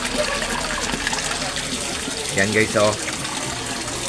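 A koi pond aerator bubbles and gushes steadily through the water, a continuous close wash of sound with someone talking over it.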